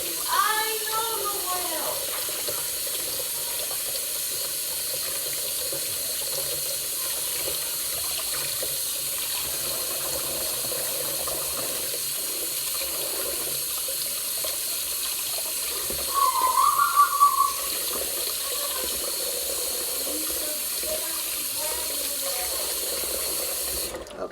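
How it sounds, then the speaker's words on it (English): Two potatoes rinsed under a running kitchen tap, a continuous steady stream of water splashing into a sink throughout, with a brief louder surge of splashing near the end as they are handled. "So let me get these potatoes washed."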